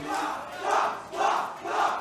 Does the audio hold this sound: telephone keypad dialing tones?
no